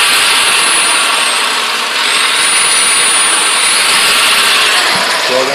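Makita variable-speed buffer polishing a 1923 T Bucket, a loud, close, steady high whine that runs the whole time with a slight shift in pitch partway through.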